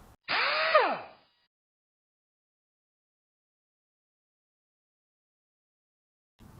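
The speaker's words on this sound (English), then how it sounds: "So I'm going to go ahead and remove these bolts now." A cordless power tool whirs briefly on a Torx bolt of a 2014 Chrysler Town & Country 3.6L valve cover, a single close burst under a second long that winds down in pitch, followed by silence.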